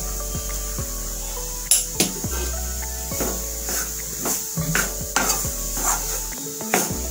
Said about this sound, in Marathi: आता ही मी बाकी उरलेली डाळ आहे तीही भाजून घेते